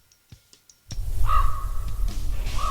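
Raven cawing: a few faint clicks and taps, then a loud background rumble sets in and two drawn-out harsh caws ring out over it, fairly close.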